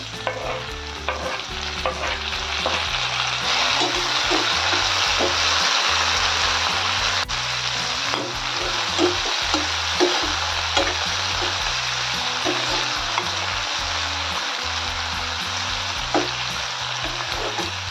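Onion and tomato frying in a pan for ukadpendi, a wheat flour upma, with a steady loud sizzle and frequent stirring scrapes close up throughout and no talking.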